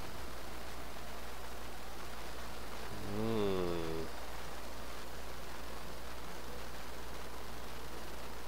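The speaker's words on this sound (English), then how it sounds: "Maybe it's the rain." Steady rain in the video game Minecraft (Agrarian Skies modpack), an even hissing wash throughout at moderate level, with a short tonal in-game sound briefly rising over it midway.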